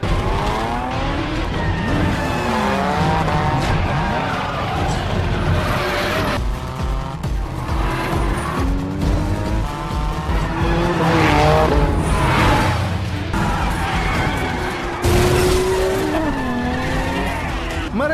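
Race cars in a street-racing film speed and skid down a mountain road, with engines revving and sweeping up and down, tires squealing repeatedly, and loud cars rushing close past, continuous and intense throughout.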